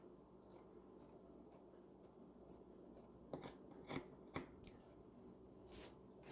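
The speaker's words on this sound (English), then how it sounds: "So I'll cut the front neck." Scissors snipping through sweater fabric while cutting the front neck, a steady series of crisp, quiet cuts at close range with no talking.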